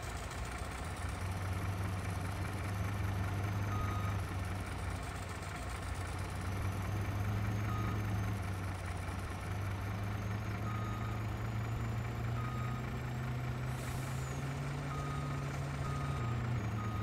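A truck in the Farming Simulator game reverses with its steady, repeating backup beeps sounding over a constant idling engine drone, continuous and fairly close, with no talking.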